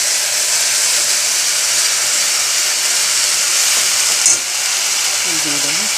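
Ginger, tomato, onion and green chilli frying in a pan, giving a steady, close sizzle with light stirring throughout and a brief clatter near the end.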